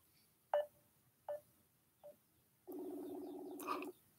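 A phone call goes out: three short dialing tones sound at even intervals, then a steady, moderately loud ringback tone holds for about a second, with no voices.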